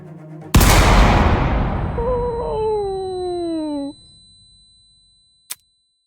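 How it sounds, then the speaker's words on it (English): A single gunshot from the video game Project: Eden's Garden goes off as one loud, sharp blast, then trails into a long echoing decay with a high ringing tone before a brief faint click near the end. "The sound of a gunshot echoed in our ears."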